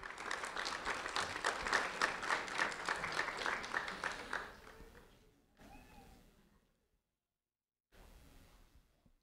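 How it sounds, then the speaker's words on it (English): An audience applauds third-grade student Malena Meyer at a sheriff's office recognition, steady clapping from a modest crowd for about four seconds before fading out into near silence. "a round of applause for Malena Meyer, please"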